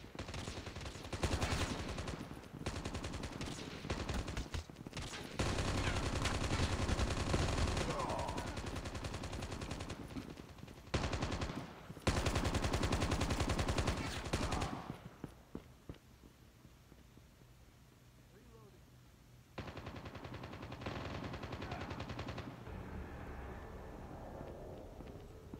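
Sustained bursts of rapid gunfire from the mobile shooter game Call of Duty Mobile, played on an iPhone, loud and dense for the first fifteen seconds, then sparser shots over quieter background with a few renewed bursts.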